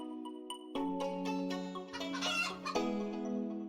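A chicken in a video game clucks in short bursts, then lets out a loud, drawn-out crow, heard close and alone over a faint tonal background.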